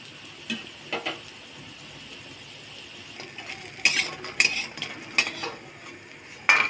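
Bitter gourd fritters fry in oil with a soft, steady sizzle, broken by sharp clinks and scrapes of a metal utensil against the pan as pieces are turned.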